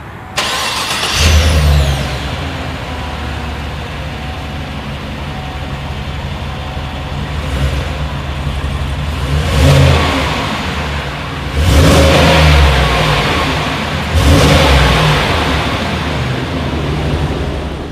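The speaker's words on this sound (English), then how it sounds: "As always, here is that exhaust clip." A 2020 Chevrolet Suburban SUV engine cranks and fires up, idles with a steady low rumble, then revs loudly through the exhaust three times.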